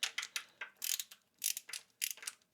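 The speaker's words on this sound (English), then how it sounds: "Small, overpriced ratchet." A small ratchet wrench clicks in quick bursts of sharp, bright ratcheting, several short runs separated by brief pauses, close and fairly quiet, in the middle of work removing the engine from a 1952 Willys.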